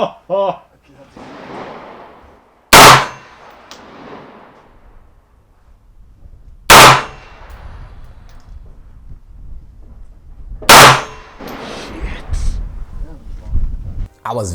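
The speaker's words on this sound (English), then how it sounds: "the second gun was a 223 Smith & Wesson rifle. Semi-automatic." Three sharp, very loud gunshots from a semi-automatic Smith & Wesson .223 rifle at an outdoor range in Cape Town, spaced about four seconds apart, each with a short echoing decay, amid low background noise.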